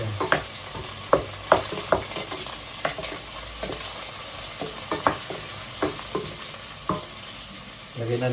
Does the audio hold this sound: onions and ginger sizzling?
yes